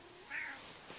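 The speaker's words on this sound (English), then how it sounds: "You're a bad kitty." A house cat gives one short, faint meow indoors against a quiet background.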